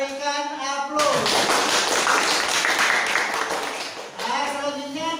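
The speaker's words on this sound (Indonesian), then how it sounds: "Kita berikan aplaus." Classroom applause for a discussion group, a burst of many hands clapping loudly and steadily for about three seconds, with a teacher's voice before and after.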